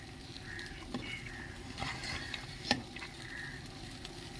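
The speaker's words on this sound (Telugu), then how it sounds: "ఇది వేసేసుకుంటున్నాను కందిపప్పు అండి" Toor dal tipped into a hot pan gives a faint, steady sizzle with scattered light patter and a few sharp ticks as the lentils land and settle.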